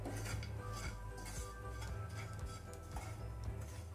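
Almond and cashew slices roasting in a pan for karanji, a coconut gujiya sweet, with faint metallic scraping and clinking of a utensil against the pan and a low steady hum beneath.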